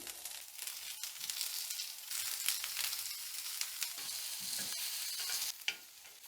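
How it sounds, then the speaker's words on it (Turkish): Peppers and tomatoes searing in a well-heated pan for grilled köfte, a bright, continuous sizzle that swells after the first couple of seconds, with occasional crackles and a utensil knock near the end. "Önce biberleri, domatesleri bir közlüyorum."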